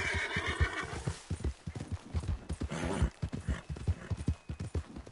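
Horse hooves clip-clop in a rapid, steady rhythm of close, distinct strikes in Red Dead Redemption, with a horse whinnying over them early on.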